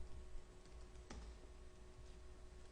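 Code being typed on a computer keyboard, with quiet, continuous key clicks at an irregular pace and one sharper tap near the middle.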